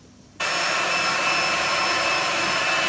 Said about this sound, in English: And there's Santa whisking the cream.